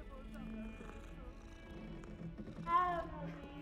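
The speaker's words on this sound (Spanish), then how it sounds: "Se puede acariciar a los gatos." A cat in the Hogwarts Legacy video game, being petted, gives soft, faint purring and a short meow near the end, all under a person talking over it.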